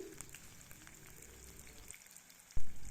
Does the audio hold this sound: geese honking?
no